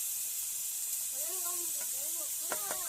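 Steady, bright hissing sizzle of food deep frying in hot oil, continuous throughout, while a person talks over it.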